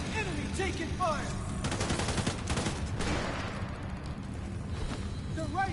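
Gunfire rattles through a PS4 video game, with dense bursts and volleys that stay loud and close almost throughout, and faint voices under the shooting.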